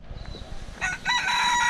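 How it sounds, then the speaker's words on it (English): A chicken crows at Auckland Zoo, the harmonic call rising strongly after a quieter stretch of ambient crowd noise and holding loud near the end. "Whoa! It's a chicken!"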